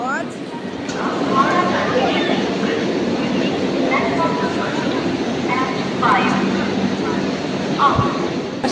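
A train rumbles and rolls through a large, busy railway terminus at Howrah station, a loud, continuous rail noise with squeals and clanks, while people talk over it.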